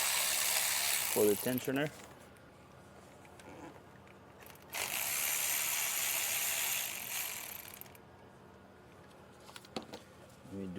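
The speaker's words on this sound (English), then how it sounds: "Now we're gonna undo the bolts" A ratchet works loose the camshaft tensioner bolts on a Mercedes M276 engine, a GLS 450 undergoing phaser replacement, giving two long bursts of rapid clicking with brief speech in between.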